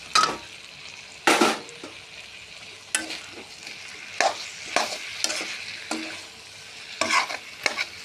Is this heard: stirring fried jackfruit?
yes